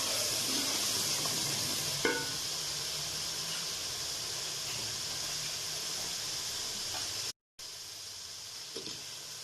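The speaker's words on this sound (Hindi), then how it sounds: "अब मैं इसमें आलू शामिल करूंगी और इसमें मटर भी शामिल करूंगी और 2 मिनट के लिए भूनूंगी।" Potatoes and peas fry in a spiced masala for aloo matar, a steady hissing sizzle that holds throughout, with a brief stir clatter early on and a short cut to silence near the end.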